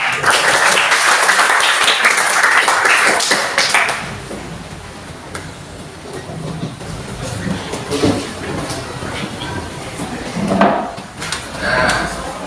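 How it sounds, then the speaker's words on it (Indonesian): Classroom group of students clapping for their group, a dense burst of applause for about four seconds, then fading into quieter room noise with scattered movement. "Tepuk tangan buat kelompok."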